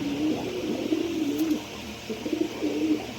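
A pair of Afsan Girizel pigeons coo close by in soft, repeated low warbling phrases with brief pauses between them.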